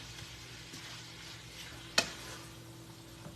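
Seasoned ground beef with chopped onion frying in a pan on a stovetop, Italian, Greek all-purpose and adobo seasonings mixed in, giving a soft steady sizzle with one sharp clink of a utensil midway.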